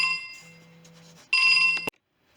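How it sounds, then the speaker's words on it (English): A telephone rings in a watercolour painting session: a short electronic ring, then a louder second burst that cuts off abruptly, leaving silence. "I'm just going to answer the phone."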